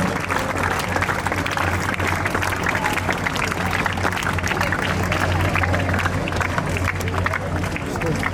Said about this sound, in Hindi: सर सभी तालियां बजाते रहे